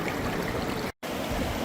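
Water rushes steadily through a gold prospecting sluice in Mill Creek in the California highlands, a loud, even hiss of flow that breaks off for an instant near the middle before resuming.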